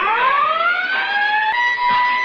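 A factory mill siren wails, rising in pitch and then holding a long steady tone, ringing out loud and alone with no talking.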